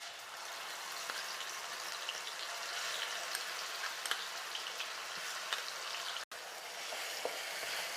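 Mustard paste frying in hot oil in a wok gives a steady, dense sizzle that stays close and loud for the whole stretch, broken only by one sudden brief dropout near the end.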